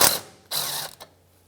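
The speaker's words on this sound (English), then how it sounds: "So now I'm going to remove this bolt right here, the mounting bolt. It's a 10mm socket" A ratchet wrench with a 10mm socket loosening the mounting bolt on a brake hose of a 1994-2002 Dodge Ram 2500, giving two bursts of rapid clicking followed by a short final click, close and clear.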